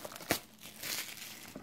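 Foil wrapping on a 2015 Panini Strata football card hobby box crinkles and tears open up close, with one sharp crackle early, then a steady rustle and a faint final crinkle.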